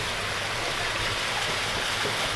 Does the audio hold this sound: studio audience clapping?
no